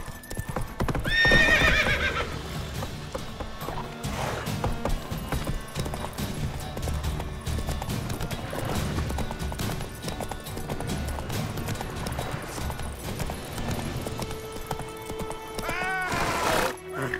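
Horse hooves clip-clop steadily at a run in The Witcher 3 video game, with a sharp neigh near the start and another whinny near the end, all set against a continuous dense game soundscape.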